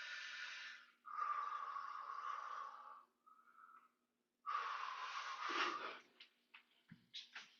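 Deep, slow breaths during a guided fascial stretching exercise. The breathing is loud and close, with long inhales and exhales separated by a brief pause. Short snort-like catches come near the end.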